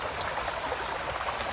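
Water at a mill dam flowing naturally, a continuous broadband rushing and splashing wash, steady and fairly close, with no voices over it.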